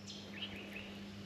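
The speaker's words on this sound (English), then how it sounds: "You can hear all the birds in the background when I shut up." Wild birds chirp in the background outdoors at a barramundi sight-fishing spot, a few faint high calls over a steady low hum, with no talking.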